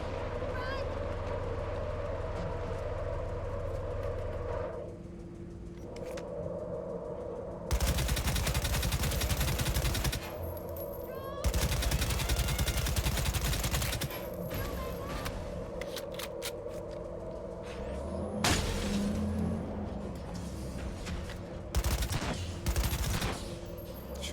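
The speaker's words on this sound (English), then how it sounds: "Shoot all their tires out." Bursts of gunfire aimed at car tires in the video game Cyberpunk 2077: Phantom Liberty come in loud, sustained volleys separated by quieter driving noise and street sounds, with a voice talking at times.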